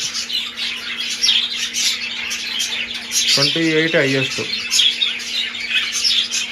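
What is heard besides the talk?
birds chirping during breeding season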